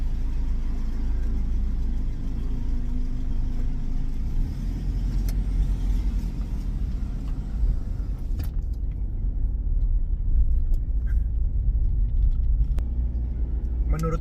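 A 2015 Toyota Fortuner VNT TRD diesel engine runs steadily with a loud, continuous low rumble throughout, heard up close.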